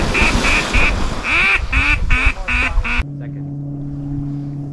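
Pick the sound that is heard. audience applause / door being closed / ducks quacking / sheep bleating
ducks quacking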